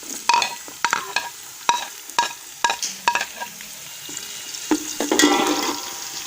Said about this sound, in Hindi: हमें बस इतनी प्याज ब्राउन करनी है। अब इसमें हम अपना लहसुन ऐड करेंगे।